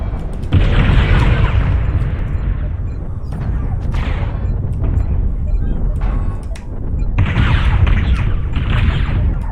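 Repeated heavy missile explosions booming in the MechWarrior Online mech combat game on the Frozen City Classic map, loud continuous rumbling blasts in dense bursts with brief lulls between volleys.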